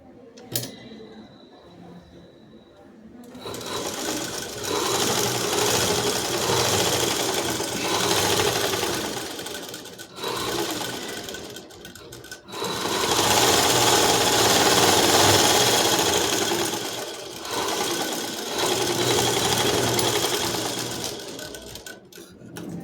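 Sewing machine stitching the side cuts of a dress top during tailoring, running in long loud continuous bursts with brief pauses between seams.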